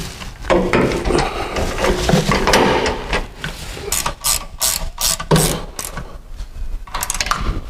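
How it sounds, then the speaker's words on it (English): A wrench ratchets rapidly and loudly, close by, in repeated bursts while bolts are tightened down during a two-post car lift installation. "put the rest of the bolts in, get everything tightened down"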